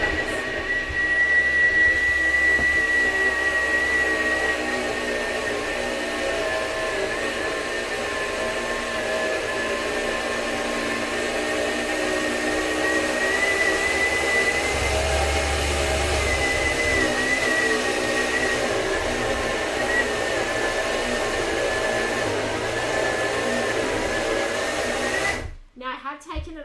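A Thermomix at speed 7 grinds cashews and sunflower seeds with a loud, steady whirring roar. It holds constant for about 25 seconds, then cuts off abruptly.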